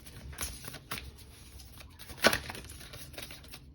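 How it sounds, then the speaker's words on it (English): Tarot cards being shuffled and drawn during a reading, soft close riffles and slides in a few quick bursts, with one sharper card snap near the end. "I'm going to pull a couple more cards here"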